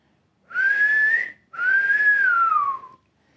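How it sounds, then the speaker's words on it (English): Two long whistled notes in a wolf-whistle pattern, the first rising and the second gliding downward, clear and close with silence around them, a comedic effect in the 1949 film noir D.O.A. "There is a comedic whistle whenever Frank sees a pretty lady."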